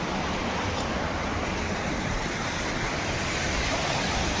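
Steady, loud rush of water flowing into a filter from a Narmada water supply line, a continuous broadband roar with no pauses, close to the microphone.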